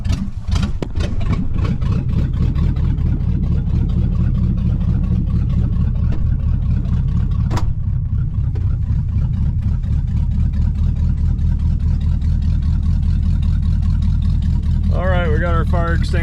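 A 1969 Pontiac Bonneville station wagon's 428 engine, a barn find parked 45 years, running with a loud, steady, rough idle close by. A voice speaks over it.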